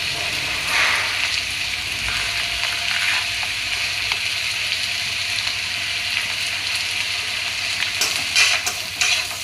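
Flat beans frying in a pan while being stirred, a steady close sizzle with intermittent scraping and clinking from the stirring utensil, no talk.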